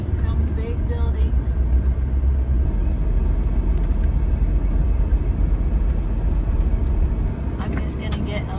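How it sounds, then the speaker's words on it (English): A retro Kombi van idles nearby with a deep, steady low rumble that holds unchanged throughout, and a voice talks over it. "I'm leaving the vehicle running in case someone comes"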